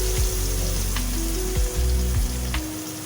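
Two chopped onions fry in oil until reddish brown, a loud, dense sizzle carrying on close by with a few spatula knocks as they are stirred.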